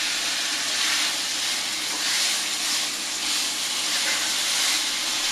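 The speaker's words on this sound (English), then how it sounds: "I'm just going to give it a stir, make sure it's sealed." Chicken sizzles in a hot pan while it is stirred and sealed for an easy chicken casserole: a loud, continuous frying hiss that swells and eases gently, with no voices over it.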